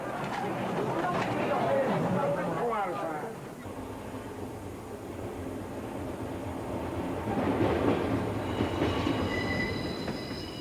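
A long-distance passenger train in the USA rumbles along steadily with a low rolling drone, wheels faintly squealing at times, while muffled voices chatter nearby inside the carriage, approaching Los Angeles.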